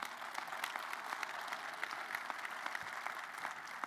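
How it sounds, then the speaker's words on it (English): Audience clapping at a Maryland men's basketball press conference introducing a new head coach, steady applause from a crowd heard at a low level. "Please join me once again to give Colleen another round of applause for her leadership."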